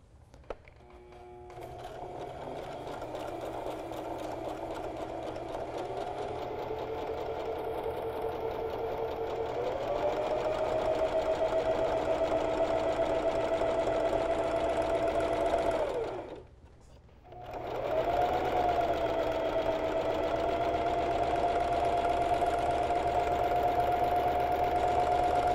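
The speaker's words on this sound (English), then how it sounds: "I'm going to go ahead and do a stitching line that's 1/4 of an inch away from the cut edge on that flat side" A sewing machine runs a straight stitching line a quarter inch from the cut edge of T-shirt fabric, humming steadily and rising slightly in pitch, with one short pause before the stitching resumes.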